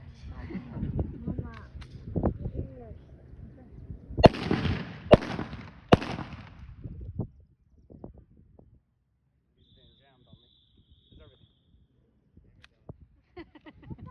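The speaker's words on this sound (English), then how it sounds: "This is the P-38. Go ahead and fire whenever you're ready." A WWII P-38 pistol fires three sharp, loud shots in quick succession at an outdoor Fort Clinch WWII weekend weapon demonstration, with people talking beforehand and quiet afterward.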